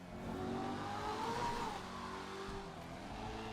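A car engine in GTA Online echoes through a tunnel, revving up and rising in pitch before easing off, with a fairly faint, reverberant tone and no talk over it.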